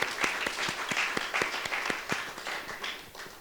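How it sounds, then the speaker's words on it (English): An audience applauding at a theatre talk event, a lively round of individual claps forming a dense, even wash that gradually tapers off, no speech over it. "Give yourself a round of applause."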